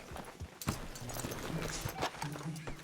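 Horse hooves clop in a video game, a few quick muffled hoof strikes close by amid soft background game noise.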